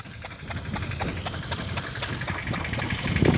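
A tractor engine runs steadily on a farm field, a continuous rumbling drone with a regular chugging pulse, close and fairly loud, growing slightly at the end.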